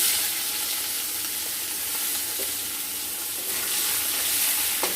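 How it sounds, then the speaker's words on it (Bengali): Potatoes sizzling in hot oil with spice tempering in a pan, a steady close frying hiss with occasional soft stirring clicks, no talking. "তাহলে ফোড়নের সাথে সাথে আলু একটু ভাজা হয়ে যাবে।"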